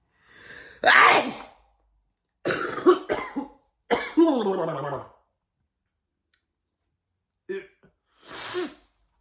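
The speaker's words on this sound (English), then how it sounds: "so I'm going to sneeze." A sharp sneeze bursts out, followed by a few short vocal sounds and breaths with pauses of silence between them.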